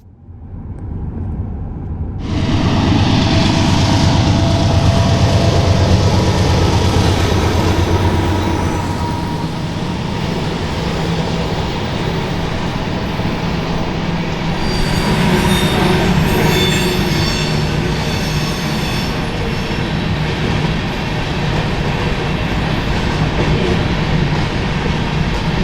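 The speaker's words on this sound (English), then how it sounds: "We got back on US 2 and quickly caught up to the grain train ascending Marias Pass." Loud, close BNSF grain train climbing Marias Pass in Montana: a heavy rumbling freight roar that builds as it arrives and then holds steady, with wheel squeal and metallic screeching partway through and no talk.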